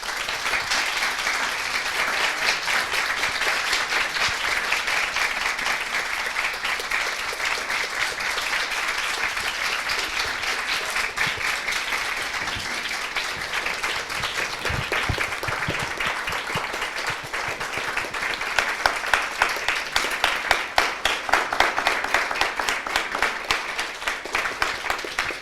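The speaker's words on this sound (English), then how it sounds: "Und beide treten nur auf, wenn sie richtig laut applaudieren, sonst hören sie nicht durch die Tür." An audience at a literary reading event applauds continuously for about 25 seconds, with a dense, even wash of clapping that grows sharper and more distinct toward the end.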